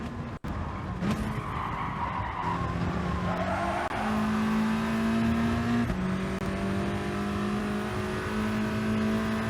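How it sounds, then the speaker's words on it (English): Volkswagen Scirocco racing uphill at Autodrome Lago Maggiore West in Gran Turismo Sport, its engine revving loudly and steadily through the gears, with pitch climbing and dropping at shifts and a brief tire squeal early on. "the Volkswagen Scirocco, revving all the way in this uphill section"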